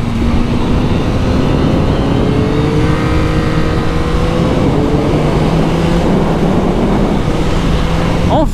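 A 2021 Yamaha MT-09 motorcycle engine runs loud and close, its pitch rising steadily as it accelerates through the revs, with a continuous rough drone and no talking.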